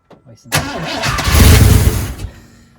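A 1997 Chevrolet Blazer that sat for years cranks briefly after carburetor cleaning with brake cleaner and choke, then fires up loudly and runs rough for a couple of seconds before cutting out.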